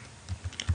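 A few quick keystrokes on a computer keyboard as a search is typed, soft close taps in an uneven burst, with no voice.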